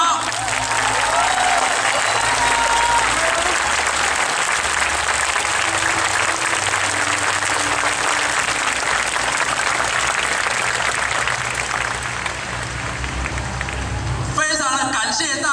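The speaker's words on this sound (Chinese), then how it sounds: "请大家给洪慈阳一个掌声" A large outdoor crowd at a 2013 rally on Ketagalan Boulevard in Taipei gives loud, sustained applause. The clapping fills the whole stretch like heavy rain, with faint voices underneath.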